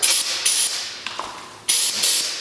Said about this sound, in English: First thing I add right after I add the gas is my carbon brake cleaner. I just like to give it a couple shots.